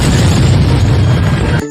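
A loud, sustained explosion in a Rambo IV film scene, roaring steadily for over a second, then cutting off abruptly.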